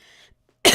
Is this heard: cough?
yes